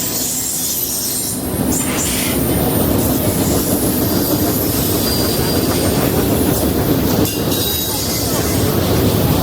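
A passenger train rumbles steadily throughout, a loud continuous roll of wheels on track with faint squeals and rubbing, close by and unbroken, with murmured voices beneath on a Chattanooga tour.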